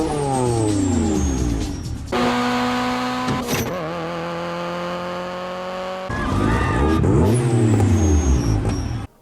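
A Mitsubishi Eclipse RS engine revs loudly through rising and falling sweeps with quick gear-change breaks, in a dramatic street-racing style; no one speaks.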